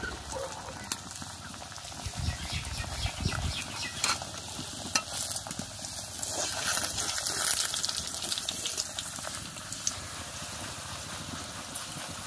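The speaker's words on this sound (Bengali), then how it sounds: "এবার এগুলোকে একটা একটা করে ভেজে নেব।" Rolled maida khaja dough pieces frying one by one in white oil in a kadai, a steady soft sizzle with occasional stirring clatter, close and moderate in level.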